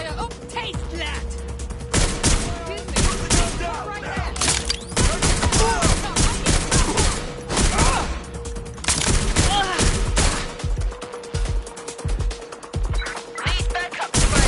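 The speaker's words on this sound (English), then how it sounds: "Gunfire!" Rapid bursts of gunfire and impacts in the video game Watch Dogs Legion, dense and loud throughout with a voice talking over the shooting.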